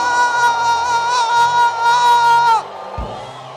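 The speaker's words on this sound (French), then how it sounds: "Est-ce que quelqu'un peut pousser des cris de joie là où il est?" A church congregation shouts cries of joy together, a loud sustained chorus of whoops and cheers that cuts off abruptly near the end.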